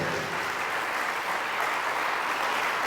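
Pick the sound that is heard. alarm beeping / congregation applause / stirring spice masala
congregation applause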